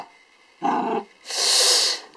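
A small dog growls and snorts up close in two bursts, a low rough rumble followed by a louder, airy, hissing exhalation, with no talking over it.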